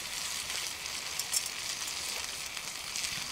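Food sizzles steadily in a cast iron pan over an outdoor bushcraft fire while breakfast cooks, a dense continuous hiss with small pops, fairly close, with no talk.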